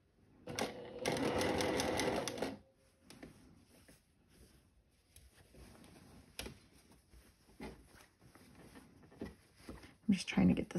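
A sewing machine stitches a quarter-inch seam on a floral sundress, a loud close whirring burst early on, followed by quieter fabric handling and someone talking, with brief stitching again at the end.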